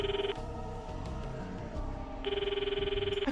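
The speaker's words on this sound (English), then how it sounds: "I could hear the call sound in my ear" Ringing call tone from a phone in the Steins;Gate 0 video game, two steady electronic rings with a pause between, heard over soft background music.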